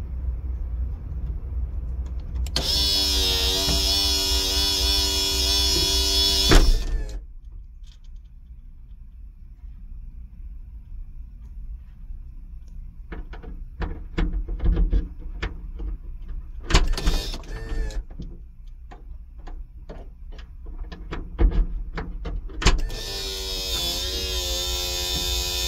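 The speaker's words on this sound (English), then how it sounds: "And the trunk is shutting and opening properly." Electric hydraulic pump of a 2003 BMW 745Li trunk lift whining loudly as the trunk opens, then clicks and mechanical clunks during movement, and the pump whine returns as the trunk closes, recorded up close.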